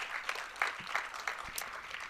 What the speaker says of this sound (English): That definitely deserves a huge round of applause.